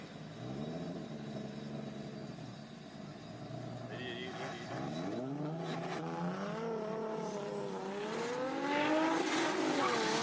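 A drift car in a tandem drift at the Borneo Star Drift Series revs hard and rises in pitch, with tire noise and a second engine, while a commentator talks over it.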